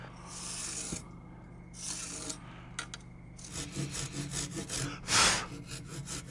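A hand saw cuts through timber posts with bursts of rasping strokes, a few separate pulls early on, then quicker continuous strokes, close and fairly loud.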